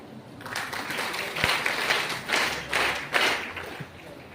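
Audience clapping at a Varamahalakshmi puja thanksgiving held by the Dharmasthala Sangha, a sustained burst of applause from a crowd indoors that swells in waves, with no talk over it.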